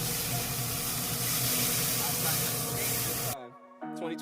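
A continuous close hiss of liquid being sprayed onto smoking pork belly for a few seconds, then it stops abruptly, leaving a faint tonal background.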